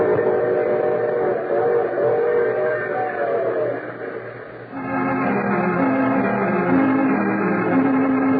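Train sound effect in a vintage radio drama: a steady rumbling locomotive with a sustained multi-tone whistle, then a shift to a brighter repeating whistle pattern over continuous rolling noise, loud and alone.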